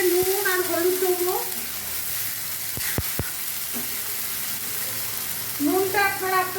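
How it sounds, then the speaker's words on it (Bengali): Kharkol (ghetkol) leaf paste frying and being stirred in a pan, a steady sizzle with scraping strokes and a couple of sharp utensil knocks partway through, while a voice speaks over it at the start and end. "দিয়ে ততক্ষণ পর্যন্ত নাড়বো যতক্ষণ না ওটা একদম শুকিয়ে ড্রাই হয়ে যাচ্ছে।"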